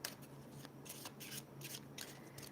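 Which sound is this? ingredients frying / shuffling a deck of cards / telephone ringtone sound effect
shuffling a deck of cards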